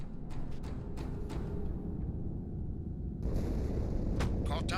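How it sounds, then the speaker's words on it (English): Explosion inside the ship Athens in the video game Halo 2, a loud, sustained roaring rumble with crackling bursts, cutting off briefly before another heavy blast swells back in near the end. "Die Explosion kam aus dem Innern der Athen, genau wie bei der Malta."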